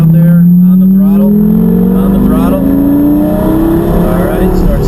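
A Lamborghini on a race track accelerates hard, its engine note climbing steadily and loudly in pitch over several seconds as an instructor talks over it.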